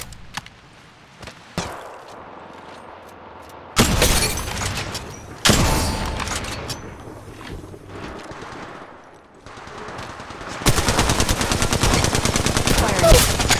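Automatic weapon fire in the mobile shooter Apex Legends Mobile, with loud rapid bursts of gunshots cutting in and out and a sustained stream of fire at the end over game ambience.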